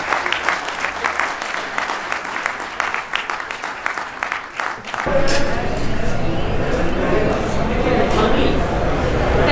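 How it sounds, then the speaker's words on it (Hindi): Loud audience applause rings out at an academy's cultural fest, first as crisp individual claps, then swelling into a dense, roaring wall of clapping and crowd noise that holds steady to the end. "तो मैं चाहता हूँ कि जोरदार तालियों से इनका हौसला अफजाई करें"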